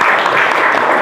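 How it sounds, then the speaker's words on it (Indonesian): Classroom group applauding a winning student team, a loud, dense wash of many hands clapping together, close and continuous with no talk over it. "Tepuk tangan dulu."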